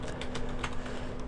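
Quick, light computer keyboard taps in a short burst, a handful of clicks close by over a low steady hum.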